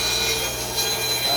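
A bandsaw runs in a woodworking shop while a small wooden boat is being made, giving a short, steady whine with a faint rasp at close range.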